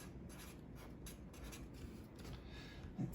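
A pen scratches across paper in short, quiet strokes with a few brief pauses, close and faint.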